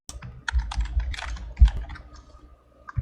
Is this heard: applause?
no